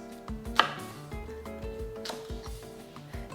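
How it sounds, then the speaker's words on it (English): A knife chops napa cabbage leaves into bite-sized chunks on a board, giving a quick run of crisp, close thuds with uneven spacing and no talking. "And cut the larger leaves into bite-sized chunks."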